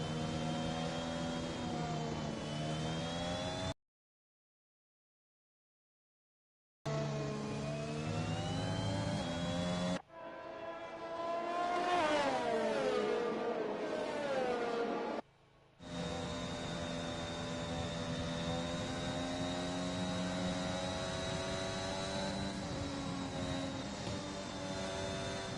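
Formula 1 racing cars on an outlap at Spa-Francorchamps in a racing video game, a steady high-pitched engine whine with shifting tones, broken by a silent gap and a passage of rising and falling revs.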